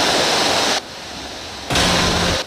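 Loud broadband rushing of river water flowing through a cave, steady and close, dropping briefly to a quieter wash before surging back.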